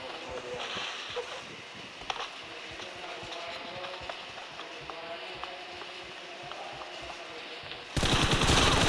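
Rapid bursts of automatic gunfire and scattered shots from a 1v1 challenge shooter video game, dense and continuous throughout, ending in a louder blast of noise.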